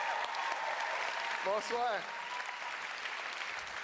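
Comedy gala audience applauding in a hall, a dense, steady roar of clapping throughout, with a performer's brief greeting spoken over it.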